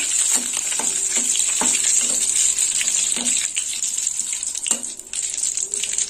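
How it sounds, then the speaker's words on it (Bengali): A cumin, dry red chili and bay leaf tempering for chicken curry fries in hot oil, with a loud, continuous sizzling hiss broken by repeated spoon taps and scrapes as it is stirred. "শুকনো লঙ্কা, একটা তেজপাতা, ফোড়নটা একটু নেড়ে চেড়ে নেব।"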